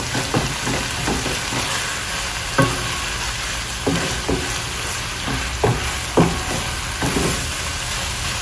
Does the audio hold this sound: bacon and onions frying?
yes